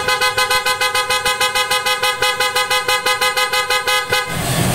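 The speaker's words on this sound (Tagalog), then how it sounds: "Pakinggan natin mga boss yung tunog ng auto style horn." Oto Style PIAA dual car horns fitted to a 2024 Toyota Wigo blare in a rapid, steady stutter of loud pulsing honks at close range, then cut off abruptly near the end.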